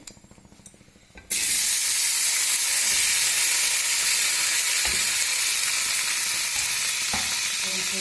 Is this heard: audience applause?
no